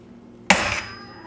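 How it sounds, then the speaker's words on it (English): A single sharp metallic strike rings out as a hammer drives a small screwdriver to knock a knockout plug from a sink drain during a garbage disposal install, close and loud, with a short ringing decay. "I'm just going to knock this out using a hammer and a little screwdriver"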